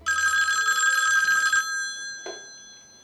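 A telephone's metallic bell rings loud and close for about a second and a half, then stops abruptly, leaving a short decaying tail and a soft thump.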